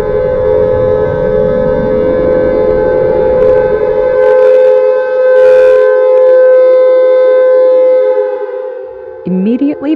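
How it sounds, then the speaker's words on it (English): Loud air raid siren blaring, a sustained wailing tone that holds steady and close, with brief noisy bursts partway through and a shift in pitch near the end. "air raid sirens activated across all 50 states"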